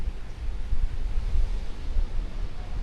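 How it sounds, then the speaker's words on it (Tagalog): Steady, heavy rumbling wind buffeting the microphone on a foggy mountaintop campsite at Mt. Banoy, continuous and fairly loud with no other sounds standing out. "Pero sobrang lakas ng hangin."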